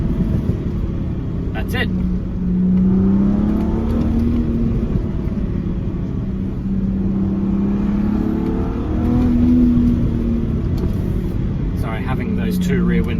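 An R36 with a custom crackle-map tune accelerates and then lifts off, the engine revving loudly up and down close by while someone talks over it, followed by exhaust crackle near the end.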